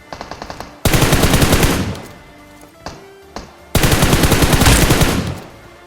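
Two long bursts of rapid automatic gunfire in a video game, loud and close, with a few single shots in the pause between them.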